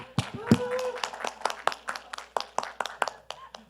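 A group claps for a youth science and technology committee at a pavilion event. Rhythmic, moderately loud claps in quick succession run under a voice talking throughout.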